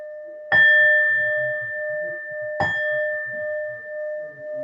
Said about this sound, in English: I'll do the gong 3 times as well.